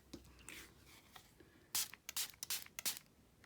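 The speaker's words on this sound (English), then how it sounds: "I'm just going to spray my card." Short hissing bursts of a sparkle spray can onto a watercolour Christmas card, several quick puffs in a row, close and soft, louder toward the end.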